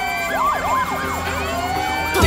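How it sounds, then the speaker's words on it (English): Several sirens wail at once, overlapping rising and falling tones from emergency vehicles, steady and fairly loud, with no talking. "Do you hear all those sirens?"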